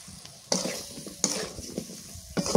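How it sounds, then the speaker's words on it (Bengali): Chopped tomato and potato are stirred in a frying pan, with a utensil scraping in three distinct strokes over a soft, steady sizzle. "টমেটো আর আলু ভালো করে কষাই।"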